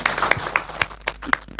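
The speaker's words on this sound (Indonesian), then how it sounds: "Tepuk tangan dulu Pak Bupati kita." Short burst of applause from a gathering at an interfaith dialogue event in Gunungkidul, welcoming the regent, with scattered close claps at an irregular pace.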